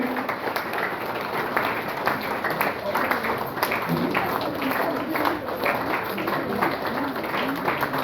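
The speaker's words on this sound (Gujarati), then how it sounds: "તાળીનો અવાજ જોરદાર." An audience at a felicitation ceremony during a religious discourse gives steady, vigorous applause that fills the room, with a voice speaking through the clapping.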